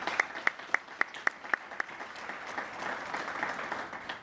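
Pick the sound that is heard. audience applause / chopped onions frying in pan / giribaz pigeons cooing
audience applause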